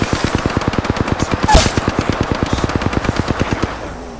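Rapid automatic gunfire from Apex Legends, a steady burst of evenly spaced shots running almost the whole clip with one louder blast partway through before the firing stops.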